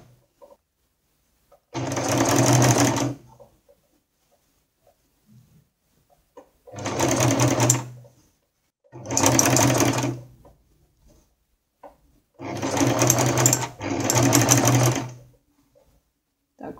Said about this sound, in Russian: И я шью на средней длине стежка.